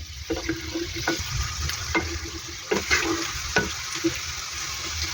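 Prawn and potato curry simmers and sizzles steadily in a pan while a utensil stirs through it, with several sharp scraping clicks standing out near the front.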